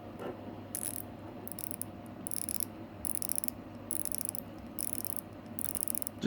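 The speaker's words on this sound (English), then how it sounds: "if you hear this bezel" Bezel of a Grand Seiko watch being rotated, a close, quiet series of crisp ratcheting clicks coming in short bursts with brief pauses between turns.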